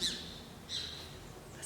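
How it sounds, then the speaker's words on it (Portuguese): Small bird chirping in quiet, low-level surroundings, with a few high, brief chirps at the start, middle and end over a faint steady background hum. "Passarinho."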